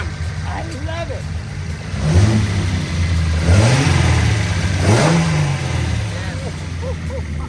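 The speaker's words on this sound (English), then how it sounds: "Look how that motor shakes" Datsun 240Z with a replacement engine revving up in three rising pulls over a rough idle, loud and close, while excited voices talk over it.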